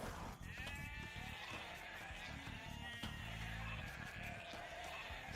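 Sheep bleating inside the video game Age of Empires II, several wavering game-animal calls repeating over busy in-game sounds and music, moderately loud and continuous across the stretch.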